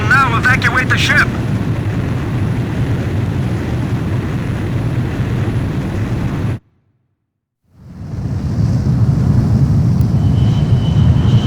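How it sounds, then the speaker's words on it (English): In Ace Combat 5, a jet fighter launches from an aircraft carrier catapult with a loud, steady engine roar that cuts out briefly and then surges back, while voices talk over it. "Aircraft launch confirmed."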